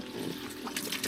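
Water trickling and spluttering from a tap after the water pump on a Fiat Ducato camper primes itself in a field, a brief, uneven flow close by.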